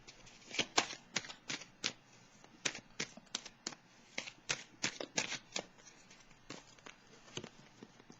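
Tarot cards are shuffled and drawn by hand, a quick run of crisp riffling snaps and soft slaps repeating in irregular bursts, close and fairly quiet with no talk.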